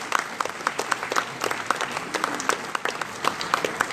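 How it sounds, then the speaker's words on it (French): A French municipal presentation meeting audience applauds, with brisk, evenly paced individual claps standing out over a dense ongoing patter of hands, fairly close and moderately loud, with no speech over it. "Je souhaite que vous l'applaudissiez."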